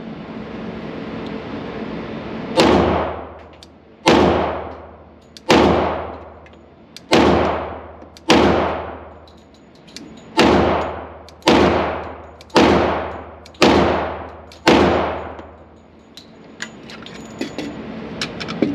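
A Glock 40 Gen 4 MOS pistol fires eleven sharp, loud shots at an uneven pace, each crack ringing out and decaying before the next, heard close with no talking.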